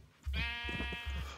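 Sheep bleating in the Minecraft video game, a single long wavering bleat that sits loud and close and carries on by itself without any voices over it.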